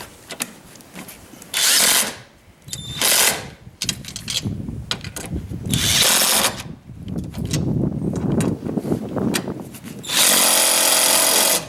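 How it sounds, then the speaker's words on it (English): A power tool runs in repeated bursts of several seconds each while strut bolts are tightened on a 2004 Pontiac Grand Am, with ratcheting clatter and short pauses between pulls, heard close and fairly loud. "We have to tighten up the bolts up the top."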